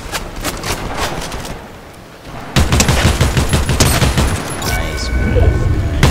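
Flare gun and gunfire in Fortnite, loud rapid bursts of shots that pause briefly and then resume heavier, with booming impacts toward the end.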